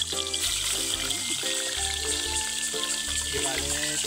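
Fish slides into hot cooking oil and sets off a steady, loud sizzle and crackle that holds throughout, with voices talking in the background.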